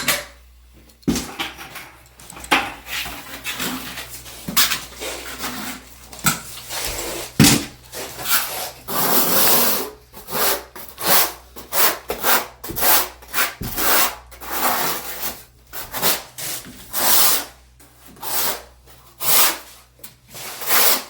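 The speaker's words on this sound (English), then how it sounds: "I like to use a small notch trowel." A small notch trowel scrapes and spreads thin slurry mortar across a shower floor pan, giving repeated rough rubbing strokes, close and fairly loud, in an irregular rhythm with no talk.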